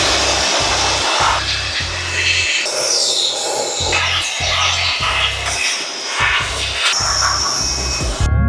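Blower roaring loudly up close while drying a car's front trunk and engine bay, its whooshing airflow continuous with rapid on-off pulsing in the low rumble as the nozzle moves around.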